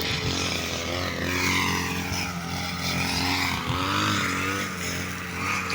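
A propeller airplane takes off nearby, its engine roaring steadily and loudly for the whole stretch, with a slight rise and fall in pitch and no talking.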